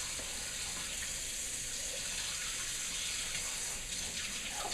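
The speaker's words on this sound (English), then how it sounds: "I'm actually probably going to add just a little bit more water." Water pours steadily from a tap or cup, a continuous hissing splash held evenly for several seconds, close by while bread dough is being mixed.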